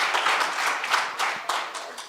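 A conference audience at a teaching and learning conference claps for a speaker, a brief burst of dense, steady hand claps from a nearby crowd with no talking.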